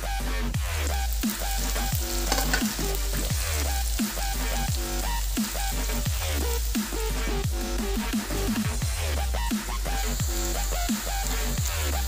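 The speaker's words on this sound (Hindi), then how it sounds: "प्याज डाल के ब्राउन होने तक इसको भून लिया जाएगा।" Onions frying in oil with fenugreek produce a loud, dense sizzle throughout, with a strong low hum and rhythmic stirring scrapes, close up and with no speech.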